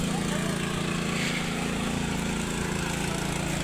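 A tractor hauling a trolley, used for carrying grass and firewood, runs with a steady, loud engine drone close by for the whole stretch, with no break in its even rumble.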